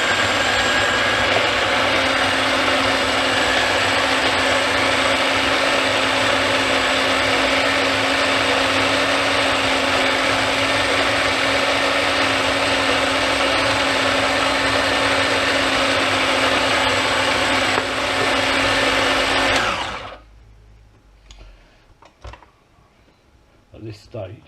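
A kitchen blender blitzing ingredients for a twisted turkey roast, a loud, steady motor whine running without pause for about twenty seconds before cutting off abruptly, followed by faint clatter.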